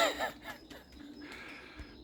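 Soft pigeon coos and a few chirps outdoors, low and intermittent, with faint background noise.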